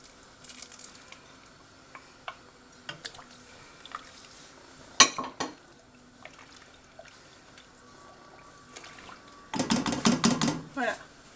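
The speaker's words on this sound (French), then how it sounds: "On ajoute le quinoa qu'on a rincé. Et les cubes de bœuf." Rinsed quinoa and cubes of beef are tipped into a pot: a sharp clatter, then a longer burst of rattling and sizzling near the end, over a quiet kitchen background, with a voice speaking at times.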